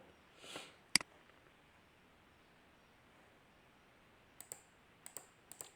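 A computer mouse clicks while saving a spreadsheet file, with one sharp click early on and several quicker clicks near the end, all set against near silence.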